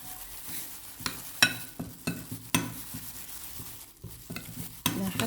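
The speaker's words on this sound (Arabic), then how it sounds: "راح اقلب المكونات كلها مع بعض" Chicken shawarma ingredients being stirred together with sumac and salt, giving scraping, clinking spoon-on-pan strokes at an irregular rhythm with a faint sizzle beneath, close and moderately loud.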